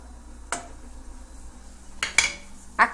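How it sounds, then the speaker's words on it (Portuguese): A wooden spoon stirs polvilho starch dough in a pot for a traditional Brazilian recipe, giving a few separate, close knocks and scrapes against the pot over a quiet background. "Com uma colher de pau, eu misturo"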